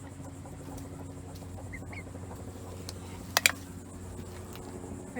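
Backyard chickens, including a young possible rooster, give a few faint soft clucks over quiet outdoor background hum, with one brief sharper call near the middle.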